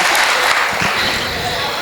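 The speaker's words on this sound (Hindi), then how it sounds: "जोरदार तालियां बजाइए" Dense audience applause fills a Hindi comedy poetry show, a steady wash of many hands clapping close and loud from start to finish, with no voices standing out.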